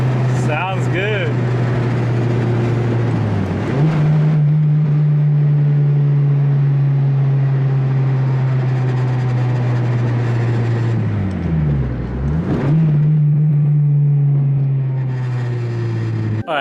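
Acura RSX Type S exhaust drones loudly and close, holding a steady tone, then dipping and rising through two gear shifts with brief revving swoops.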